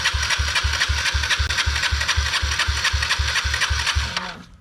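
A dirt bike engine idling, with steady even low thumping pulses and a buzzy mechanical rattle, loud and close, then cutting off and fading out near the end.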